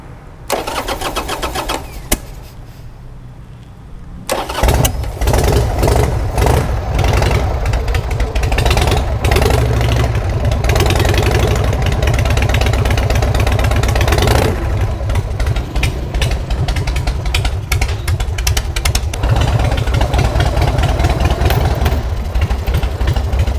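Harley-Davidson Sportster chopper with a carburetor cranks for several seconds, fires up and settles into a loud, rough, loping idle that runs on steadily, heard close.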